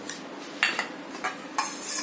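A metal spoon scrapes and taps inside a pot while homemade curd is spread over its base and sides, a few sharp clinks among soft smearing scrapes, close and alone.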